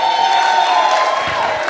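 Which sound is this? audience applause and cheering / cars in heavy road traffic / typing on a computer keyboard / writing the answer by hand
audience applause and cheering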